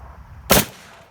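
One loud, sharp gunshot cracks out from a handgun at close range and decays quickly into a faint tail, with no talk around it.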